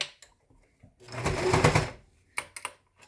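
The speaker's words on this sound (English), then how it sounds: "we're going to do a full 1/4 inch stitch" A sewing machine stitches a quarter-inch seam through a pleated three-layer fabric procedural mask, running in one steady close burst of about a second, with short clicks and handling sounds before and after.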